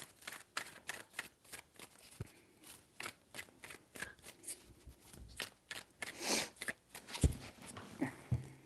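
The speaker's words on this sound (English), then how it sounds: "Three shuffles." Tarot cards being shuffled by hand in a quiet room, a faint run of quick riffling and soft slapping bursts, the last few strokes a little sharper.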